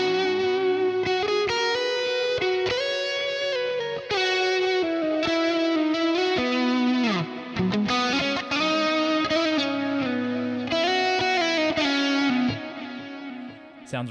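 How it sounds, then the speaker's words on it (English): Electric guitar through a clean crunch patch on a Kiesel Aries, played with delay and reverb, bright sustained chords and notes ringing with echoing tails, loud and steady throughout, no talking. "So you kick the delay on there with the reverb."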